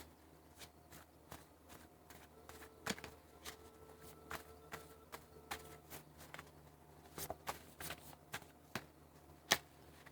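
Tarot cards being shuffled by hand, soft papery riffles and flicks in irregular bursts, close and quiet in a calm room.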